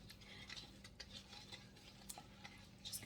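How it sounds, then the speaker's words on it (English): Quiet stirring of a cinnamon roll dough mixture of flour, salt and baking powder in a bowl, soft scraping and light clinks of the utensil, close and faint. "Just kind of stir it."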